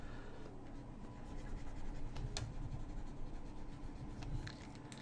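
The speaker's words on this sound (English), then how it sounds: "let me just erase all this" An eraser rubs across paper on a light-and-shadow sphere drawing, giving a steady close scratchy scrubbing with a few sharper strokes, heard alone without talk.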